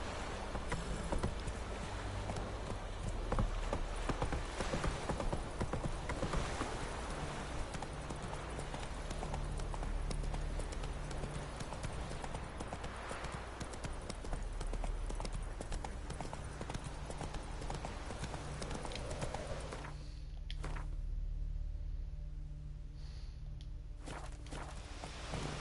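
Horse hooves clip-clop steadily on the ground in the video game Witcher 3, a continuous rhythmic trotting with a brief quieter stretch near the end.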